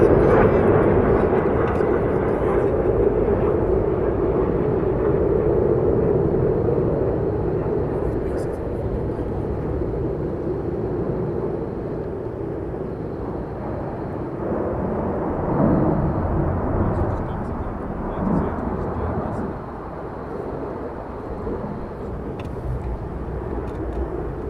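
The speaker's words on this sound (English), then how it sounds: "Another 3 F-35s inbound." F-35 fighter jets fly in toward RAF Lakenheath, heard as a broad, low, rushing roar from a distance that stays fairly steady, fades slightly, then swells again midway.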